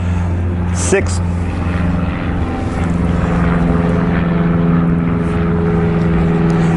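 A propeller airplane passes overhead outdoors, its droning engine a steady loud hum that builds and lingers throughout.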